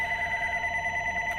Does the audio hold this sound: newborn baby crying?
no